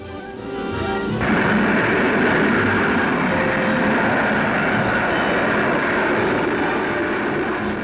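A rocket sled races along a 2.5-mile test track, a loud, sustained roaring rush that surges in after a quieter opening and holds steady, with no talk over it.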